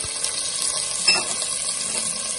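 Onions sizzling in a pan over low heat with garlic, cumin powder and turmeric powder stirred in for Lahori kadhi pakora, a soft continuous frying hiss with a brief clink of stirring.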